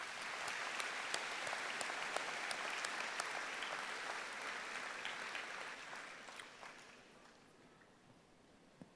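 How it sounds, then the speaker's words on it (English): A graduation audience applauds a retiring school board member with a dense, steady round of clapping that gradually fades over about nine seconds, with a few sharper individual claps near the end. "Please thank Ben with a round of applause."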